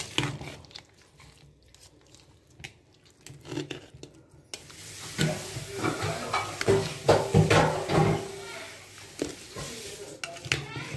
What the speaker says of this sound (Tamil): இதை ஓரளவுக்கு அடியோட சேர்த்துட்டுருக்கோம், அப்போ தான் ஒத்தாப்பில் உப்பு இருக்கும்